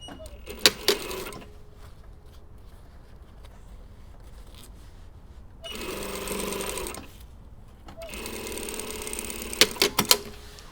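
A sewing machine stitches the side seam of a lining, running in two short bursts of steady whirring, with clicks and handling noises in the quiet between them.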